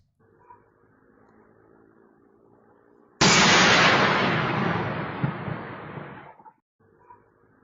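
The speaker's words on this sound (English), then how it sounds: "a video of somebody's security camera capturing what sounds like a missile flying by and then exploding" Security camera recording of a missile streaking overhead and exploding: a sudden loud burst of broad roaring noise that slowly fades over about three seconds, following a quiet outdoor background.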